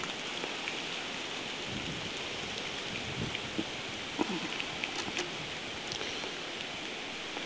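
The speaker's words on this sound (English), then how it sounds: "The rain is going east that way." Steady rain falls on a forest trail, a soft continuous hiss with a few faint scattered drips and taps, no voices.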